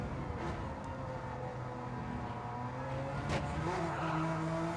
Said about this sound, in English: His Porsche sounds different than Kyle's.